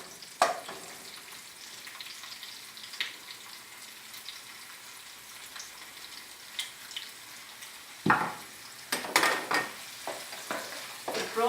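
Prawns stir-fried with pineapple rice and sausage in a hot pan, a soft continuous sizzle broken by sharp scraping stirs, louder bursts of frying near the end as the food is tossed.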